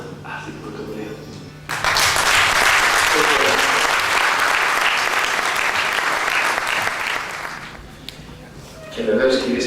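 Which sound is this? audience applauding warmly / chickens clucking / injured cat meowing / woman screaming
audience applauding warmly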